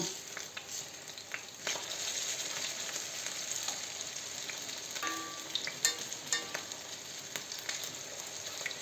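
Potato pancakes (deruny) fry in a pan with a steady, soft sizzle and occasional crackles and pops, heard alone at low volume.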